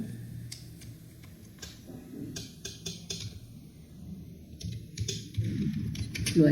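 Code is typed on a computer keyboard in short bursts of quick, light key clicks, close and fairly soft, over a low background hum with a voice faintly present.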